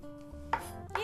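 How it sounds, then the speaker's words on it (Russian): Knife chopping fresh dill on a board in a home kitchen, two quick crisp cuts close by, with no talk. "А тем временем я нарежу зелень. Из зелени в данном случае укроп."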